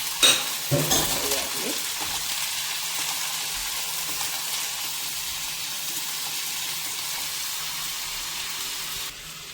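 Washed prawns seasoned with salt and turmeric drop into a hot pan and sizzle steadily, with a few clattering stirs and scrapes at the start before settling into a constant close frying hiss.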